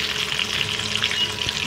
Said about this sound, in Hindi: इसी तरह से सारे पकौड़े को फ्लेम पर पका रहे हैं ताकि अंदर का भी देख रहे हैं कीमा